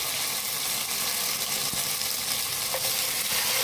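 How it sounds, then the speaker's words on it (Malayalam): Already-cooked duck pieces, for a Kuttanad-style duck curry, crackle in hot oil with a continuous close sizzle, a few sharper pops and spatters rising over the steady hiss, and no one speaking. "എണ്ണ ചൂടായിട്ടുണ്ട്. അതിലോട്ട് നമ്മൾ ഈ വേവിച്ച് വെച്ചേക്കണ ഈ താറാവിൻ്റെ കഷ്ണം ചാറിടല്ലേ, കഷ്ണം മാത്രം ഇട്ട്"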